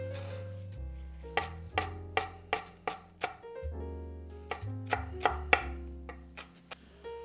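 Knife chopping green onions for sesame-style meatballs on a cutting board, a quick series of crisp, close taps in uneven bursts with a short pause midway, with music playing underneath.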